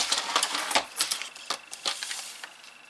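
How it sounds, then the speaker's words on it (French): Paper being cut for a seed-envelope album page, giving a run of crisp snipping and slicing sounds with small irregular clicks and rustles, close and fairly quiet, with no talking. "là je coupe juste ce que j'ai besoin"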